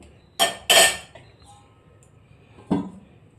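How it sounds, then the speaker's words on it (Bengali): A metal lid set onto a cooking pot of Bengali chicken kosha, giving two quick clanks close together followed by a third clatter a moment later, close and distinct in a quiet kitchen. "আমি ঢাকনা দিয়ে দেবো"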